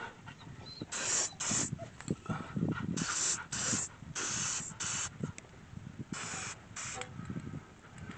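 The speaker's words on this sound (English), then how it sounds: "I got a can of primer here." A spray can of primer hissing in a series of short and longer bursts, roughly eight separate blasts with gaps between, close and fairly loud, used to mark holes on an old Ford truck frame.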